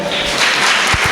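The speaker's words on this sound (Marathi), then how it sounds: "जोरदार टाळ्या." An audience at an event applauds loudly, a dense burst of clapping throughout the short moment.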